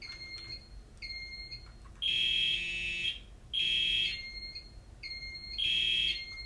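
A Simplex building fire alarm sounds during a test, blaring in loud sustained horn bursts about a second long that alternate with a fainter high-pitched tone, close and with no talking.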